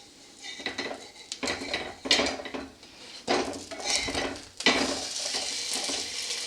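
Potato spice sandwich being flipped in a frying pan, with repeated close metallic clatters and scrapes of a spatula against the pan over a low background sizzle.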